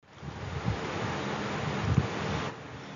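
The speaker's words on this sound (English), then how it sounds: "the water on the meats is boiling. It creates bubbles" A steady, rushing bubble and hiss of water boiling over meats, continuous and close, with a few louder low pops rising through it.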